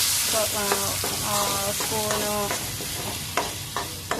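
A tempering for bottle gourd chutney sizzles in hot oil, a crackling hiss with repeated sharp spoon-on-pan clinks and scrapes in a broken rhythm, close and moderately loud.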